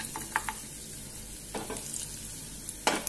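Small chopped coconut pieces frying in ghee, a low steady sizzle broken by a few brief scrapes and clinks of stirring, close by with no voices.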